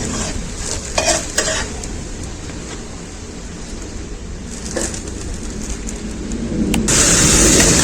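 Mung dal chakli fries in hot oil with a steady, moderate sizzle and occasional sharp clinks of utensils, the sizzle swelling louder near the end.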